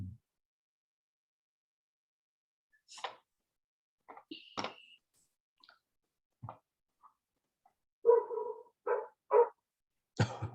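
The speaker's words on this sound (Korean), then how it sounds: "여기 지금 옆집에서 개가 짖는데 다 들리죠?" A dog barks next door in scattered, distant bursts: several sharp single barks separated by long silences, with a quicker cluster near the end, faint and isolated in a quiet room.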